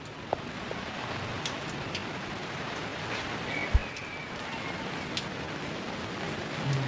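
Steady rain patters softly and evenly throughout at a boulevard in Bato, Camarines Sur, Philippines, with an occasional faint tap or knock standing out.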